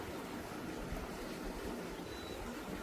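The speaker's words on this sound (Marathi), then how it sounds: "बघा आता पाणी इथं स्पीडला वाढलं" Water rushing steadily through an opening at the seaside in Konkan, a continuous broad roar of flow, loud and close, without distinct changes or voices.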